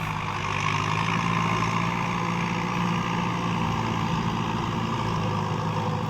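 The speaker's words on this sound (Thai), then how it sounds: "เสียงลั่นๆนะครับเสียงท่อ สะใจมากครับ" Kubota MU4902 tractor with a loud aftermarket exhaust and turbo, its engine droning in a steady, heavy rumble for several seconds, close and unbroken, with no voices.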